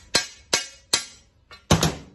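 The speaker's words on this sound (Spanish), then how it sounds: "o aquí con un martillo," A hammer strikes a metal piece, bending it to start a curve while shaping a figure: four sharp, ringing blows at an uneven pace, the last one doubled, close and loud with no talk.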